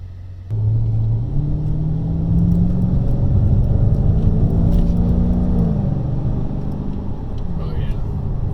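A 2019 Dodge Challenger R/T Scat Pack 392 V8 Hemi engine roars to life and climbs steadily in pitch as it accelerates, loud and close from inside the car, then eases off.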